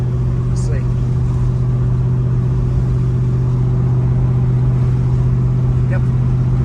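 A 1970 Pontiac LeMans engine drones steadily while driving, a constant low hum from inside the car with faint brief squeaks over it.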